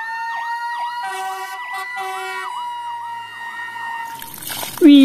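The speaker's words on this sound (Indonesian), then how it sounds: "Ini mobil pemadam kebakaran." A loud electronic toy fire truck siren wails in a fast repeating up-and-down pattern, close, with a clatter and a sharp squeak at the end.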